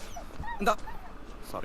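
In a Malayalam film scene, a dog lets out a brief whimper and a couple of short yips while people talk nearby.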